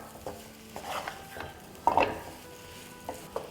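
A spatula stirs and scrapes samosa potato filling with spices in a pan over a medium flame, a few distinct scraping strokes with a low sizzle underneath.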